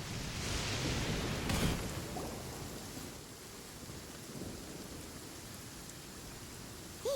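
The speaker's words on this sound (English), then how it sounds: "Let us find shelter from the rain." Steady rain falls in a video game: a dense, even hiss that stays fairly loud for the whole stretch, with a slightly stronger swell early on and no voices over it.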